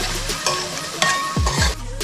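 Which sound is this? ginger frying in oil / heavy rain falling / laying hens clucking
ginger frying in oil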